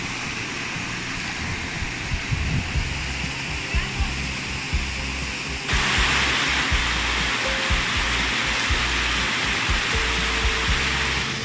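River water spills over rock formations into natural pools in San José del Limo, Puyango, Loja, Ecuador, a loud continuous rushing roar that brightens partway through, with someone talking over it.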